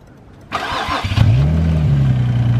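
An Infiniti G35 cranks briefly on a jump box, then its engine catches and settles into a steady, close idle.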